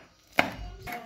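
A knife cuts finely through chillies and onion on a board, one sharp close chop followed by a softer second cut.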